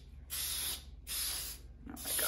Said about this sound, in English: Spray the sides.